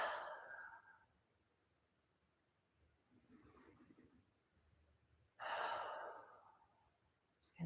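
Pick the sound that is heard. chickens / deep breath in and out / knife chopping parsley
deep breath in and out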